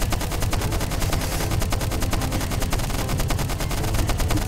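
Machine gunner tank firing in the game Stickman Trenches, a steady rapid stream of gunshots and fusillade that stays continuous and fairly loud for the whole stretch, with no voices.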